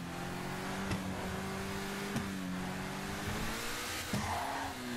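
A sports car engine in GTA 5 on PC hums and revs steadily, loud and continuous, with gear changes briefly breaking the drone.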